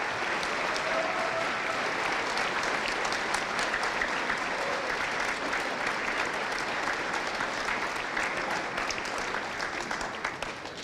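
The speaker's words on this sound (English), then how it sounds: "Could you guys give them a round of applause for the countless hours of work?" An audience at an all-county band concert applauds band directors with sustained, dense clapping that holds steady and then tapers off near the end.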